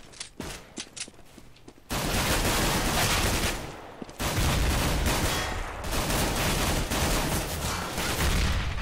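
Close bursts of gunfire in a Counter-Strike match on the de_train map: a few sharp isolated shots first, then sustained loud rattling volleys with a brief lull in the middle.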